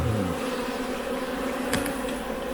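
Jangwon honeybees swarm around an open hive during a winter-preparation inspection, giving a constant close buzzing drone with a brief rattle partway through and no speech.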